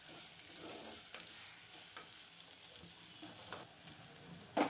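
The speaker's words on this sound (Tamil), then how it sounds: "கொஞ்சம் உப்பு போட்டு நல்லா வதக்கிக்கலாம்." Two large onions sauté in a pan for a bitter gourd kuzhambu, a faint soft sizzle with occasional light scraping stirs and a sharper clatter at the end.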